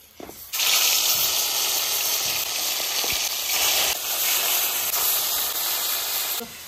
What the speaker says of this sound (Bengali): আমরা একবারে মাছগুলোকে হালকা করে ভেজে নেব।